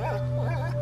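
A dog whimpers in the video game A Plague Tale: Innocence, with short, wavering, high whines in quick succession over a constant low game hum.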